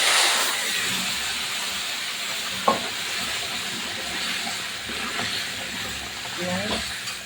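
Curry is poured into a hot pan of oil with cumin and bay leaf for a bhetki fish curry, producing a steady close hiss and sizzle with a few clinks of stirring.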